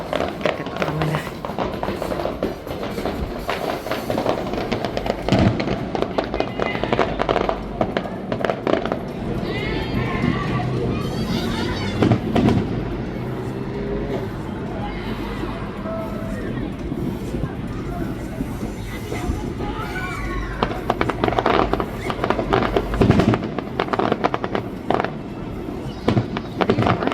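A New Year fireworks display, with steady crackling and popping bursts filling the air for nearly half a minute, mixed with crowd noise and people talking nearby.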